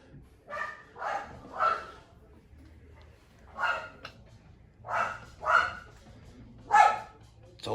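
A small dog yaps in short bursts, several sharp barks spaced across the clip, fairly close, with a low hum underneath.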